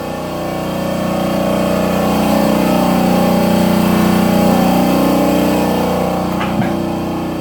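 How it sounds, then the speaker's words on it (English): Air compressor runs loud and steady in a shop during a Ford F250 truck restoration, a continuous droning hum throughout, with a faint clank near the end. "You can hear the compressor going off in the back right now. It's loud."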